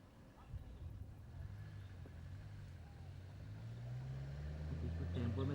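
A car rolls slowly forward at a crime scene, its low engine rumble rising steadily and growing nearer over several seconds, with faint background activity around it.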